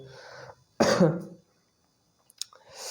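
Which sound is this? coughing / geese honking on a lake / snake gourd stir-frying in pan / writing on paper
coughing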